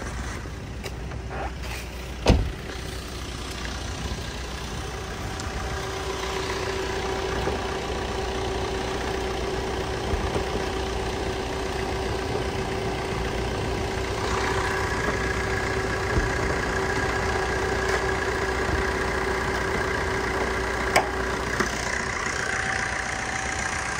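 A 2014 Maruti Swift VDI diesel engine idles with a steady low rumble throughout, joined by a sharp knock early on and a faint hum, with no talking.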